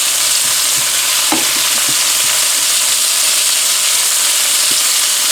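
Turkey breast steaks coated in flour sear in a hot pan with a steady, close sizzle and hiss throughout, broken by a few soft stirring clicks.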